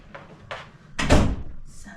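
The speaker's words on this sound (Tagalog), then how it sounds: "Sasarado ko lang yung mga pinto guys." Two light knocks of a door being handled come first, then one heavy, close door shutting with a solid thud that fades out. A faint hiss follows at the end.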